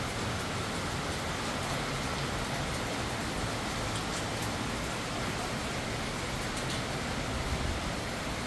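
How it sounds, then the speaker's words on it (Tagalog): Light to moderate typhoon rain with little gusting wind falls as a steady, even hiss throughout, with no voices. "light moderate yung ulan ngayon pero wala masyadong bugso ng hangin"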